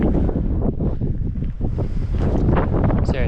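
Strong wind buffets the microphone in low, rumbling gusts that rise and fall throughout, with no voices.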